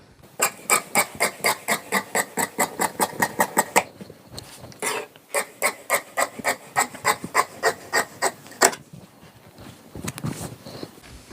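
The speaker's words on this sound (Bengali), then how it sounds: "এখন আমি কাটিং শুরু করব।" Close, crisp strokes of a blade cut fabric for palazzo trousers. Regular rapid rasps come in two runs separated by a short pause.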